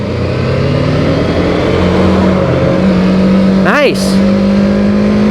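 A BMW F450 GS motorcycle engine pulling hard uphill in third gear, a loud steady drone rising gradually in pitch, with a brief sweep from a passing vehicle and a rider speaking over it.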